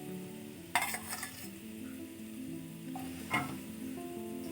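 Coriander and curry leaves frying in a pot for pot chicken biryani, a soft steady sizzle broken by a couple of brief bursts as leaves hit hot oil or are stirred, with light utensil clinks.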